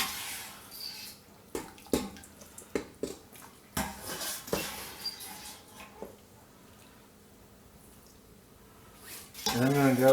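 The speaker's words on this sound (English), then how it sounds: "I'm going to take all of my veggies out of here, put them in this bowl here" Cooked vegetables are scooped from a pot of turkey stock into a bowl, producing intermittent metallic clinks and scrapes of a utensil against cookware, close by, with a wet slosh near the end.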